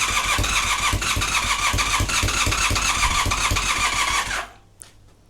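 An engine catches and runs loud and steady with the choke on, then cuts out abruptly near the end, leaving quiet hiss.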